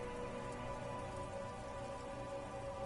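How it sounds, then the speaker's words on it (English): Steady, dense rain pours down over a city, a continuous loud hiss of drops on surfaces with no voices, unbroken for the whole stretch. "Rain falls down on the world."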